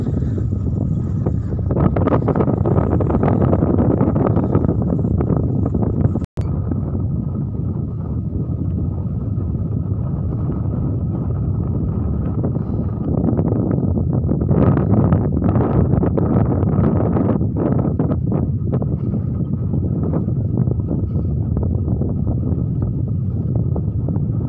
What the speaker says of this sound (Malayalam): അവിടെ ഭയങ്കരമായിട്ട് കാറ്റ് വീശുന്ന ഒരു സ്ഥലം കൂടിയാണ്